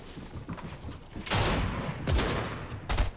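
Bursts of gunfire from players fighting in the video game Fortnite, loud cracking volleys in quick clusters at a middle distance, with no talk over them.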